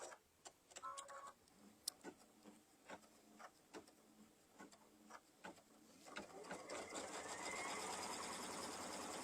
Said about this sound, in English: Put it back on the machine. And we'll stitch this down.